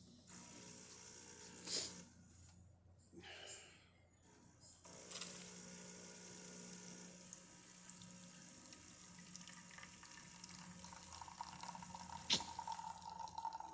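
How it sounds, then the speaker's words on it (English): A Jura Z10 automatic coffee machine runs a brew cycle, giving a quiet steady mechanical whir and hum with trickling water and a few sharp clicks and ratcheting ticks. "Beautiful coffee, already coming out."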